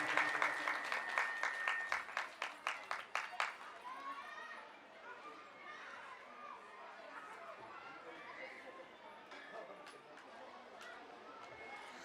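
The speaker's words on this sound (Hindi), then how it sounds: "एक बार इनके लिए जोरदार ताली" Audience applause at a Shrimad Bhagavat Katha gathering: several seconds of rhythmic unison clapping, then a softer scattered patter of clapping mixed with crowd chatter fading on.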